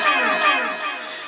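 A single sustained electric guitar chord from a song, ringing out alone with a heavy effects-laden, chorused and echoing tone that slowly decays.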